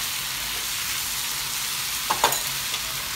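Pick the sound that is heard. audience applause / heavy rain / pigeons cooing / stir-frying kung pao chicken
stir-frying kung pao chicken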